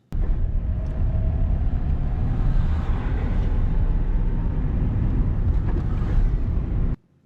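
A car on a beginner driving lesson is driven fast in top fifth gear at over fifty kilometres per hour, with a steady low engine and road rumble that stays close and constant until it cuts off abruptly.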